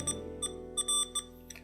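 A Samsung Galaxy SmartTag 2 Bluetooth tracker plays its ringtone, a series of short electronic beeps in an irregular pattern over a low steady hum, fairly quiet and close.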